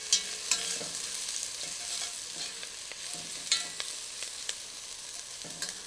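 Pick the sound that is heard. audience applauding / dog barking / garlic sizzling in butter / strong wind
garlic sizzling in butter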